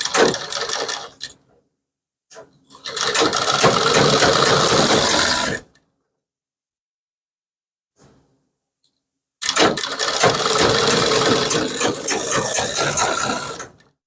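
Sewing machine stitching the sleeve of a kurti, running in three loud, close bursts of rapid mechanical clatter separated by silent pauses, with a few brief clicks between them.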